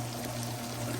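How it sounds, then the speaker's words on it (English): Canned hominy and its juice pour into a skillet, giving a steady, soft liquid pouring and splashing sound that runs alone for about a second. "I'm going to pour both cans in here with the juice that it comes with."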